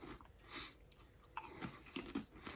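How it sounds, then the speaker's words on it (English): Lay's Numb & Spicy hot pot potato chips are crunched and chewed up close, with quiet, irregular crisp bites and chewing and no talk. "Nice and crispy and crunchy."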